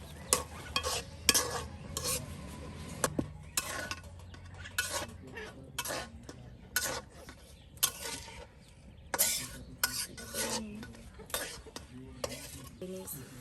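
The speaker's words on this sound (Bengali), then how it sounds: "এই যে এখন মূলা শাক ভেজে নেওয়া হবে" Finely chopped radish greens fry in a pan while being stirred, a low sizzle broken by frequent sharp scrapes and clacks of a spoon against the metal in an irregular rhythm, close by and with no talking.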